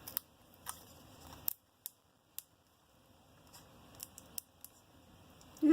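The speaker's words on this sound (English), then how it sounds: "Take the paper backing off." Paper backing is peeled off foam Dimensionals adhesive pads while assembling a rustic Christmas card, giving scattered close crackles and sharp little ticks and snaps with quiet gaps between them.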